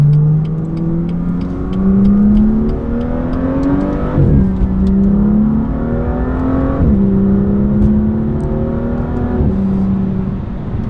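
A BMW M2 with a DCT gearbox in comfort mode revs up steadily, its engine note climbing, then dropping sharply at each of several upshifts before rising again, loud and close throughout, with no talk.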